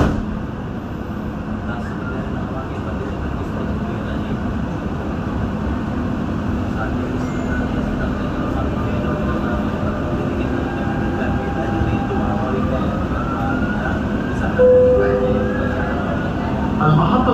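A Dubai Metro Green Line train runs with a steady, fairly loud rumbling drone throughout the ride, while automated announcements play over it.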